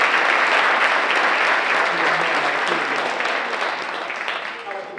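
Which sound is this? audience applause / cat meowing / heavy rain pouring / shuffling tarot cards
audience applause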